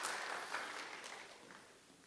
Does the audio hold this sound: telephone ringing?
no